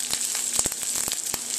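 A heaping portion of onions sizzles steadily in hot duck fat, a close, dense crackle with occasional sharper pops and a faint steady hum underneath, no voices.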